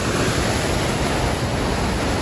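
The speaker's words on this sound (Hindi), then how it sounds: "ये चेक करो गाइस कितना तेज पानी जा रहा है" Fast, rushing river water roars in a loud, steady broadband wash close to the microphone, with no voices over it.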